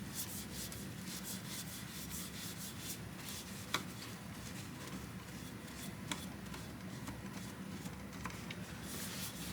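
Steady rubbing and wiping of an epoxy tumbler with acetone to clean off paint overspray, a soft continuous scrubbing texture with a few faint ticks, close and quiet with no talking.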